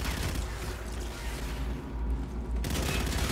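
A rumbling explosion and burst of gunfire in the shooter game Call of Duty: Infinite Warfare, a dense, loud blast with lingering low rumble and scattered mechanical clatter.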